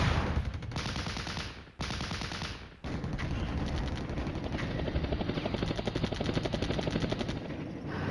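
A helicopter's rotor thrum runs steadily under crackling bursts of machine-gun fire in the wargame Flashpoint Campaigns: Red Storm, with brief interruptions before the rotor chop and shooting continue loud and constant.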